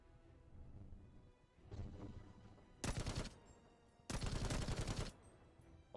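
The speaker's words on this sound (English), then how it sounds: "that's a heckin' grenade launcher, it looks like. Judging by the explosions going off." Grenade launcher rounds in The First Descendant video game burst twice in quick succession, sharp and loud, over a quieter rumbling background.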